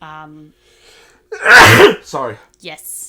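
A loud, close sneeze bursts out between bits of conversation in a podcast studio, followed by a person speaking briefly.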